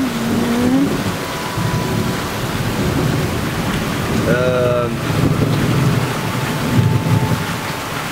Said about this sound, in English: now rain is hitting me in the face as I'm trying to make this video